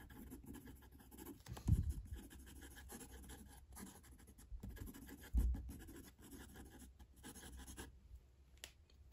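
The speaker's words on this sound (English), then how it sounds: "Quick writing." A Ferris Wheel Press Carousel fountain pen writes quickly across paper, giving a soft, continuous scratchy nib sound with a couple of louder taps or bumps along the way, close up and with no talking.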